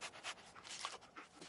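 Dogmeat, the dog companion in the Fallout 4 video game, pants in quick rhythmic breaths, a short run of soft, close huffs heard on their own.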